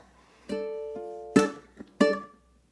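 A ukulele picks out the opening phrase of a song: a few plucked notes and a ringing chord, then two sharp accented staccato hits, played alone and close.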